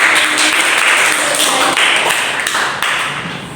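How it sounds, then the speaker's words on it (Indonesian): A classroom audience claps during a biology microteaching lesson, dense loud applause at close range that holds steady and then tapers slightly toward the end, with no talk over it. "beri tepuk tangan untuk"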